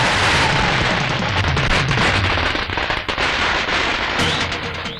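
A string of firecrackers bursts in rapid, loud crackling volleys during a funeral procession in a film, dense and continuous before tapering off near the end.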